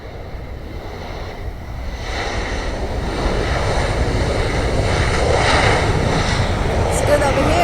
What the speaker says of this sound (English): We have another Delta landing.